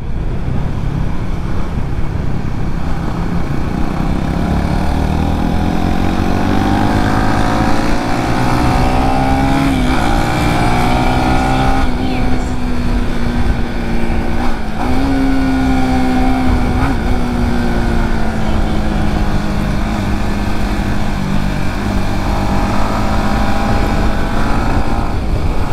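A Honda Winner X motorcycle engine revs and pulls steadily through the gears on a race track during a test ride. Loud, continuous buzzing with rising and falling pitch, mixed with heavy wind rush, and no speech.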